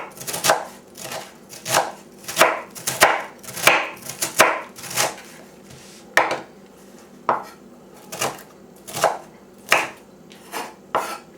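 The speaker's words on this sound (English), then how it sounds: "So after I bought the burner mandolin slicer, this task became much less cumbersome and much more fun" Cabbage being sliced on a Börner mandoline slicer, a run of crisp, rhythmic swishing strokes about one per second, close and clear, with a brief pause partway through and no talking.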